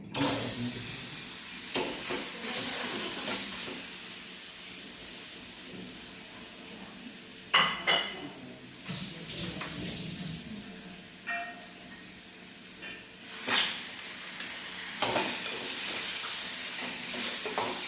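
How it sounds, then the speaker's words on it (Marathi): Ripe mango pieces with red chili powder, turmeric and salt sauté in hot oil, a soft continuous sizzle broken by several sharp stirring scrapes, fairly close and moderately quiet. "असा आंबा चांगला तेलावर परतून घ्यायचा."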